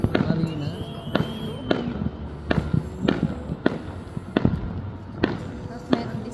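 Fireworks burst in a run of sharp, cracking bangs about a second apart, echoing at moderate distance over a steady background murmur.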